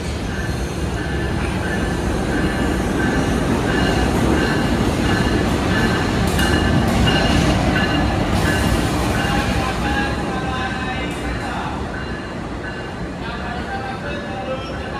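A Jayabaya economy-class passenger train from Surabaya Gubeng to Malang rumbles steadily along the rails, with continuous wheel noise, faint squeals and rhythmic clacking, loud and close throughout.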